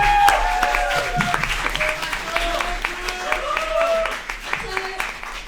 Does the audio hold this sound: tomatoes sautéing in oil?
no